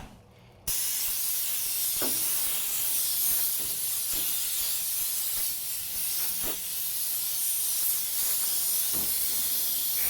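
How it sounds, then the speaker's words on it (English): An air compressor nozzle blows accumulated debris off a boat deck, giving a loud, steady rushing hiss that fills the clip, broken by a few sharp knocks and clatters of loose bits. "So I'm using the air compressor to blow all the garbage that has collected in here over the last week out"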